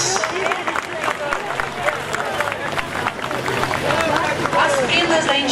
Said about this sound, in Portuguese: Vamos aplaudir, pessoal.